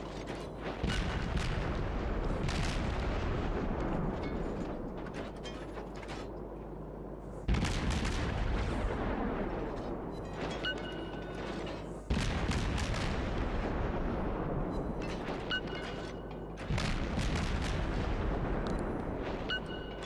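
Naval gunfire from the destroyer USS Benson in the World of Warships game: heavy booming salvos that repeat every few seconds, each with a sharp blast and a long rumbling tail, loud and dense throughout.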